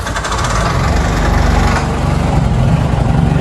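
A 2014 Bajaj CNG auto-rickshaw engine runs at idle nearby, a loud, rough, buzzing putter with a rapid knocking pulse that stays steady throughout, no one speaking.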